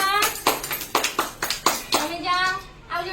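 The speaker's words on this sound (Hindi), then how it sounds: "वेरी गुड ताली मारो" Children clap their hands in a few short bursts during a classroom activity, close and fairly loud, with a kid's voice heard between the claps.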